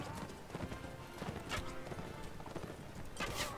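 Horse hooves galloping in the medieval combat game Mount and Blade, rapid repeated clip-clop beats with a few sharp louder impacts, fairly faint, with scattered voices underneath.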